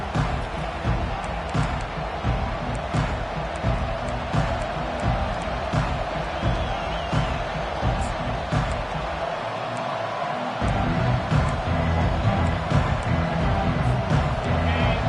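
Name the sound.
football stadium crowd noise at Texas A&M game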